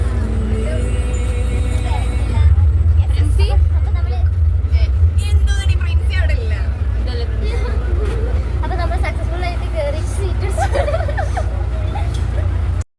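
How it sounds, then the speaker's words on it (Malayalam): Inside a moving bus, with a constant low engine drone and road rumble throughout and people chatting nearby over the noise. "അങ്ങനെ ഞങ്ങൾ വണ്ടി കയറിയിരിക്കുന്നു"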